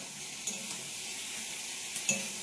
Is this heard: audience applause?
no